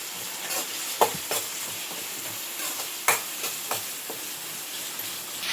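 A spatula stirs fish curry masala with tomatoes in a pan, sharp scraping clicks at irregular intervals over a constant soft sizzle, with no talking.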